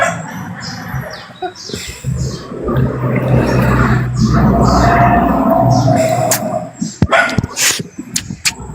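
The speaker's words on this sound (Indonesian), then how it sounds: "Ada guguk kok, siapa nih guguk nih?" A dog barks and yips in sharp bursts near the end, after a stretch of loud, busy background noise and some voices.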